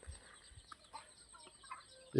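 Desi chickens clucking in a village coop, a few soft, scattered clucks close by at low volume, ending in one louder squawk, with no talking.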